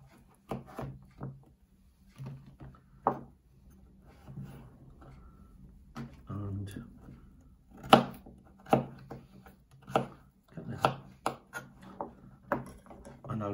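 A kitchen knife works through food on a wooden cutting board, producing irregular sharp taps and thuds, some in quick runs and others spaced apart, close and fairly quiet.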